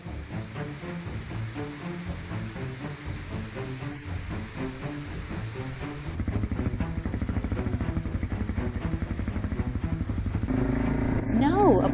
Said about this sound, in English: Hey, Manu, should I go through there with the motorcycle?